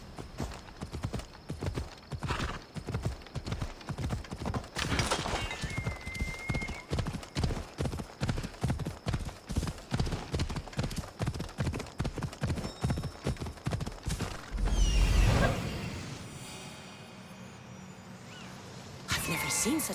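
Horse hooves clip-clopping in a steady rhythmic gait while riding in Assassin's Creed Odyssey, close and continuous for about fifteen seconds before fading into a whoosh and quieter ambience.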